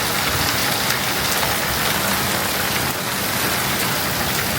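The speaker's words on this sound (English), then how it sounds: "It is downpouring out here right now." A heavy outdoor downpour in Florida, with dense rain hissing loudly and evenly throughout and no voices.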